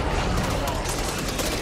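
Dense, continuous gunfire in the zombie shooter Back 4 Blood, a loud unbroken roar of shots with no pause, with voices mixed in.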